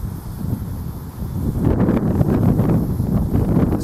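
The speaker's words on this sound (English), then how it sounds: "Listen to that wind." Wind buffets a microphone outdoors among low flowering alkali sida plants, a rough rumbling roar that grows louder and gustier partway through. There is no talking.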